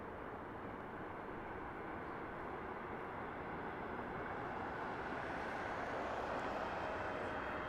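Spirit Airlines jet at Harry Reid International Airport in Las Vegas, a steady broad roar of engines held at a distance, constant and unbroken throughout with no voices.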